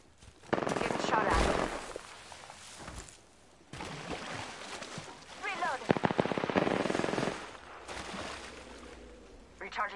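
Rapid automatic gunfire in a PS4 shooter video game comes in several loud bursts separated by short pauses, mixed with other game noise and voice callouts.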